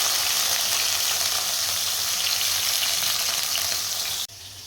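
Sabudana khichdi frying in a pan, a loud, dense, continuous sizzle that cuts off sharply near the end.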